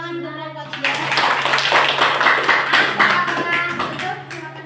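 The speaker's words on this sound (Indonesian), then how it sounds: "Berikan tepuk tangan untuk kelompok 3." Classroom applause for a student group, a burst of many hands clapping, fairly loud and close, with children's voices mixed in.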